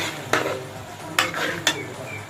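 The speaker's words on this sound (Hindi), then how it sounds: "यहाँ पे चिकन को अच्छे से फ्राई करना है।" Chicken fries in a pan for bhuna chicken with a constant close sizzle, punctuated by three bright scraping strokes of a spoon stirring against the metal.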